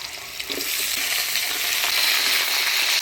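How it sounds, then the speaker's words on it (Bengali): Potatoes frying in hot oil tempered with black cumin and dried red chillies, with a steady, loud sizzle that runs throughout and occasional soft scrapes as the pieces are stirred. "দিয়ে দিচ্ছি আলুগুলা, ফোড়নের তেলে আলুটা নাড়াচাড়া করে নিলাম"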